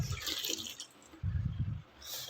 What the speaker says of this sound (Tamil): இப்போ இதை தண்ணி வடிகட்டிக்கலாம்.